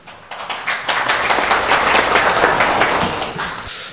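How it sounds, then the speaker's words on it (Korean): Audience applause at a policy forum on megacities and capital-region policy, a dense burst of clapping that swells quickly and holds steady at full strength, close and loud. "큰 박수 부탁드립니다."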